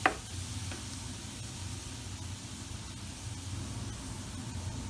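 Salted butter melting in a pan over low to medium heat while being stirred, a faint continuous sizzle after a brief knock at the start.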